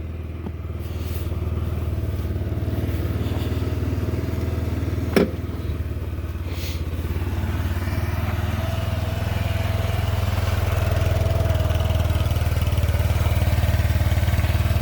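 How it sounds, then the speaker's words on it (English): A motorcycle engine idles quietly and steadily up close, a low, even rumble with a faint mechanical clatter and one brief sharp tick partway through. "as you can see, it's running. So let that idle."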